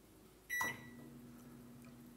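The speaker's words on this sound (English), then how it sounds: "Look, it's the convection oven is going." Toshiba convection microwave oven preheating to 425, a steady low hum running throughout, opening with a brief sharp beep-like tone.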